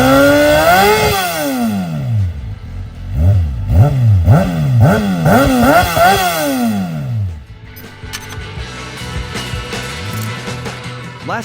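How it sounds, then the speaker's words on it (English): A 2024 Kawasaki Ninja ZX-6R supersport motorcycle fitted with an Akrapovic exhaust revs hard several times in quick succession, each throttle blip sweeping up and falling back, then settles into a rough, lumpy idle close by. "here is the sound of the ZX-6R, also equipped with akrapovic exhaust."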